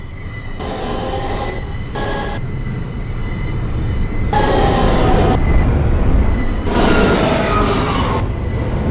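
A Manhattan-bound R express subway train rolls into the station with a loud, steady rumble, wheels squealing in several drawn-out bursts of screeching over the continuous roar.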